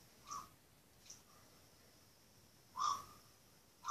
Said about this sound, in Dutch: Dat is een kraai.